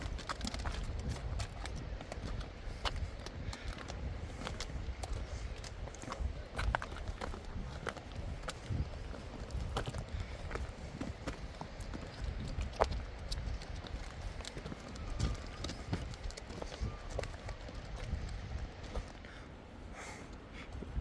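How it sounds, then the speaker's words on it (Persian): Donkeys walk along a rocky mountain path, their hooves clip-clopping in an irregular stream of soft knocks over low rustling and wind, fairly faint and close. "الاغای چند بار دارن از این مسیر میرن که مسیرش بهتره"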